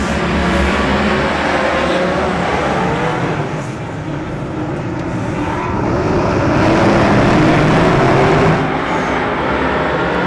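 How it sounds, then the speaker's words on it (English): Superstock race cars roar off the start at a night meeting of the 2024 New Zealand Superstock Grand Prix in Wanganui, a loud, dense wall of engine noise that swells and holds steady throughout, with no clear talk. "Here we go, green flags in the air. Let's go racing Superstocks!"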